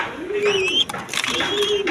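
A breeding pair of satin pigeons give two rolling coos close by, each rising and falling, while someone talks over them.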